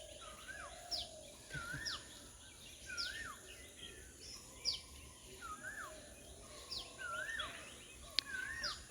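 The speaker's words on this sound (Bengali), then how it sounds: "পাখির ডাক কী সুন্দর শোনা যায়" Birds, including a cuckoo, call repeatedly at a distance in a village at dawn, a series of rising, whistled notes over a soft background hum, fairly faint.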